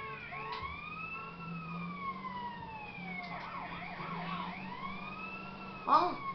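An ambulance siren in GTA San Andreas wails in smooth rising and falling sweeps, fairly faint and steady over low engine rumble, with a brief louder knock near the end.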